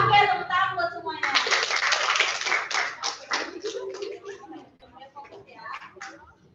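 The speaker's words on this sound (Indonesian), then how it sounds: "Oke, tepuk tangan buat semuanya." A group applauds, dense clapping for a few seconds that thins out and fades, with a voice speaking over the start.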